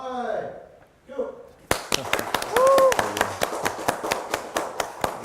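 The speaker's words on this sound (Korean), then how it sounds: "박수로 들어갈까?" A small studio audience bursts into a round of applause, a fairly near mix of dense, sharp hand claps that starts abruptly and continues, preceded by brief speech, with a short tonal cue sounding over the clapping.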